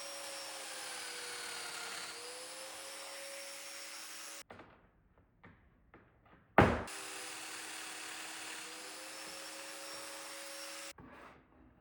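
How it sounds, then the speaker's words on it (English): A domino joiner whines steadily as it cuts mortises in a wooden table base, running in two bursts of several seconds each, separated by quiet handling knocks and a sharp clunk. "I cut all the mortises."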